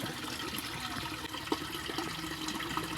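Strong water flow pouring through a hole in an earthen fishpond dike, a steady close rushing and gurgling wash with small splashes, continuous and fairly loud with no talk.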